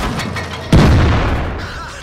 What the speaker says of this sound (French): encore un obus qui passe à côté